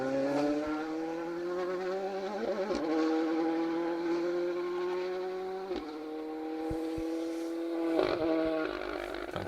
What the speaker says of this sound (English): Fantastic engine note in that Fiesta.